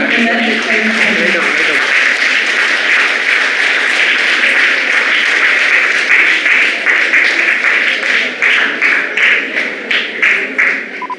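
Loud, sustained applause from a crowd at a Women's Day celebration as the chairman launches an advertisement. It continues steadily, then thins into scattered claps near the end, with a voice heard briefly early on.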